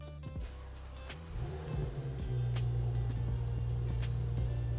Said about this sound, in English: now for the moment of truth to see if I've done that right and the car will start